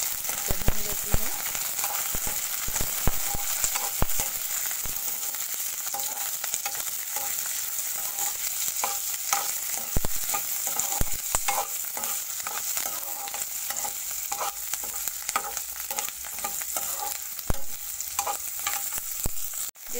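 Curry leaves, asafoetida, almonds, lentils, dried chillies and garlic roasting in a pan over low heat, steady soft sizzling and frying crackle with occasional stirring scrapes and clinks throughout, close and continuous with no speech.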